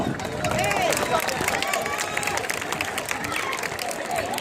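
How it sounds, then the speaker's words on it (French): A crowd applauding and cheering at a toro piscine bull event in Quissac, with continuous clapping and excited voices, dense and steady throughout. "Mais c'est là que vous pouvez les applaudir!"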